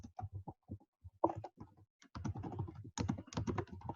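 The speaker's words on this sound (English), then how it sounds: "You can type it in if you want to as well." Rapid bursts of keystrokes on a computer keyboard as information is typed in, clicking in quick irregular runs with short pauses between them, close and clear with no talking.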